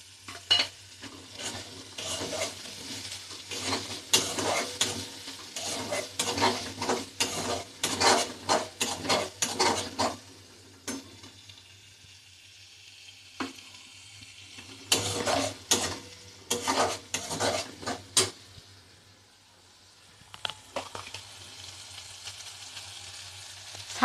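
Poppy seed paste with charmagaj melon seeds is stirred in a frying pan, with bursts of close scraping and clattering from the spatula over a low sizzle, then quieter pauses before more stirring.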